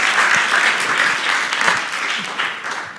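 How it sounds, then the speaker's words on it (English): Audience applause at a health-technology conference session on AI diagnostics, a steady wash of many hands clapping for about three seconds, fairly close and continuous with no voices rising above it. "Clap for me, come on."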